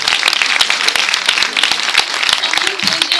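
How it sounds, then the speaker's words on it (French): Audience at a 2014 preview screening in Montluçon applauding, a lively continuous burst of many hands clapping with sharp individual claps standing out and voices calling out over it. "vous pouvez vous applaudir"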